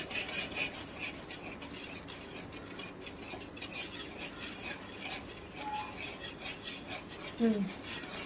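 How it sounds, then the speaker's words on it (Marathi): A spoon stirs sugar into a mango ice cream mixture in a pot, giving continuous soft scraping and swishing with faint clinks near the end and no voices. "आता याला एक मस्त मिक्स करून टाकूया, गाठा डाळायला नाही पाहिजे म्हणून."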